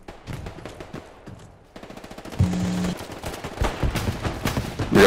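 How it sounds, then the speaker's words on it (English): Artillery and gunfire in the WWII shooter Hell Let Loose, rapid rattling bursts and heavy thumping impacts building in loudness, several close blasts near the end, no speech. "Dropping artillery."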